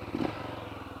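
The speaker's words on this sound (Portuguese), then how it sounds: "O carburador, ele tá fazendo um barulhinho aí de entrada de ar falso." A small Twister motorcycle with a new engine idles steadily, its carburetor drawing false air; a brief louder surge comes near the start, then an even, close running rumble with faint clatter.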